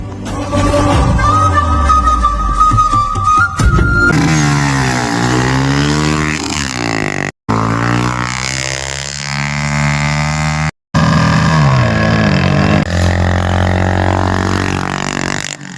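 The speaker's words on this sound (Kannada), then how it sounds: "ಬೈಕ್ ಸ್ಪರ್ಧೆ ಶುರು ಆಗ್ತಾವೆ ನೋಡ್ರಿ ಅಣ್ಣ" Loud motorcycle engines roar and rev at a bike race contest in rural Karnataka, rising and falling in pitch with abrupt cuts, close and continuous over the whole stretch.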